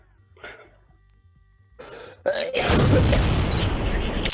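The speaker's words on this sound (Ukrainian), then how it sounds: "Кашляєш." A person gives a short cough and clears their throat close by. A louder burst of rushing noise follows.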